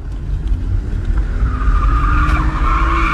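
A car drifting, its engine roaring loudly and close while the tires squeal steadily, rising in pitch through the slide.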